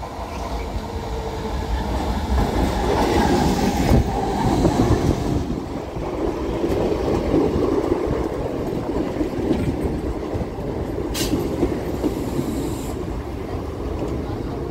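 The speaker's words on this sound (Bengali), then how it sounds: "ট্রেন ঢুকছে।" A passenger train rolls into a small rural station in Bankura district on a foggy morning, its steady rumble and wheel clatter loud and continuous throughout, with a brief bright squeal near the end.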